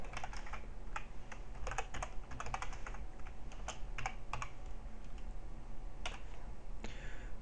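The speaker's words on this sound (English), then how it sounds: "I just want to type it out." Fingers typing on a computer keyboard, a quiet, uneven stream of light key clicks in short bursts and pauses, fairly faint against a steady room hiss.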